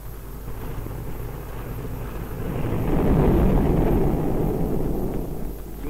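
Archive film sound of the B-29 bomber Enola Gay in flight over Hiroshima in 1945, a steady droning propeller-engine roar that swells louder mid-way and then eases off, with no voices.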